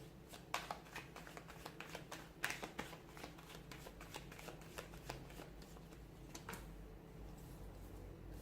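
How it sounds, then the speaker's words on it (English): A tarot deck is shuffled up close in a quiet room, with a series of soft riffling bursts and sharper card snaps at an uneven rhythm. "let's go ahead, give the cards a shuffle"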